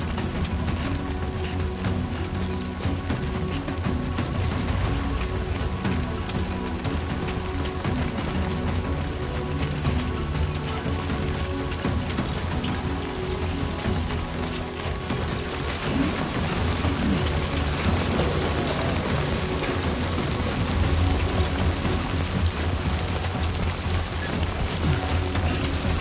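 Steady heavy rain hisses across the whole span with low thunder rumbling underneath, a dense continuous storm inside the Death Stranding 2 video game, loud and unbroken.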